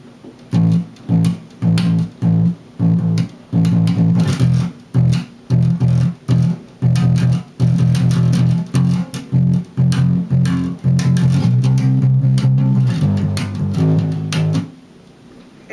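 Bass guitar playing the intro line of a song: loud, close, low plucked notes in a steady choppy rhythm of repeated short groups, then more sustained notes toward the end.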